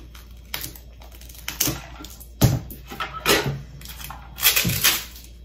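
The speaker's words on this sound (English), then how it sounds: "I'm gonna just take a nice layer of this duct tape, wrap it around the top," Duct tape is pulled and wrapped around the top of a plastic sensory bottle, close crackling tears and sticky rips in irregular bursts with quiet gaps between.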